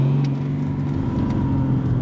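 Diesel BMW E39 530d with a homemade straight-pipe exhaust, running close by with a steady, loud, rumbling drone and a slight rise in revs, with no talk.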